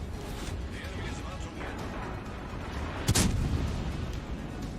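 Warship naval gunfire in World of Warships, a single sharp heavy blast near the end over a steady background rumble of engine and sea, with a player talking.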